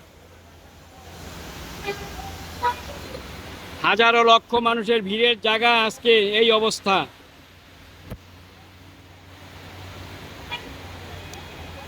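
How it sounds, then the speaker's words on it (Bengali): A car horn honks in a quick run of repeated toots, loud and fairly close, on a flooded Dhaka street during cyclone Remal, with steady traffic and water noise beneath and someone talking. "চলাচল করতেছে খুব রিক্স নিয়ে চলাচল করতেছে গাড়িগুলো"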